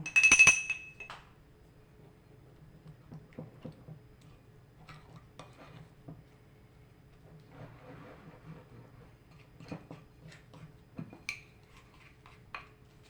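Spoon or utensil clinking against a glass jar while stirring sourdough starter, a bright clink at the start followed by softer scattered taps and scrapes, close and fairly quiet.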